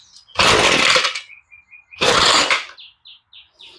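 A Ryobi weedeater on half choke sputters through two short, loud bursts as its engine tries to catch, with quiet gaps between and birds chirping faintly in the background.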